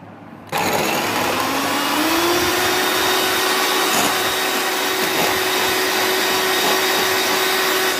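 An electric hand mixer beats sugar into sponge cake batter, a steady loud whirring motor hum that starts abruptly after a brief quiet moment and holds constant throughout with no talking.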